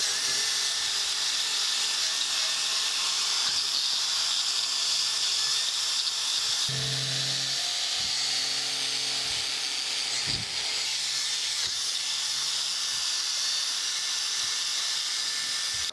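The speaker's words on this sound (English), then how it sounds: "I've just got a wire wheel mounted here on an angle grinder, and we're just going to come in here and clean this up" An angle grinder fitted with a wire wheel scrubs rust off the cast-iron saddle of a metal planer, giving a steady, harsh, high hiss that runs on continuously, with slight dips in pitch.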